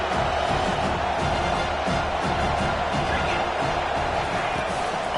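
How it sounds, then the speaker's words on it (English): Dense stadium crowd roar from the College Football 25 video game, a Gridiron matchup against Kentucky, surging steadily and loudly throughout with no break, thick and constant like a packed stadium backing its defense. "Listen to this crowd just shaking the girders of this place"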